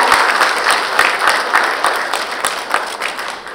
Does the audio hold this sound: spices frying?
no